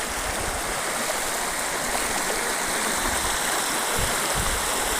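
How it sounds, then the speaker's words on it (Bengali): A loud, continuous roar of rushing floodwater in Bangladesh, close and unbroken throughout, with no voices. "যেই পানির স্রোত, এই পানিতে টিকে থাকাটাই মুশকিল।"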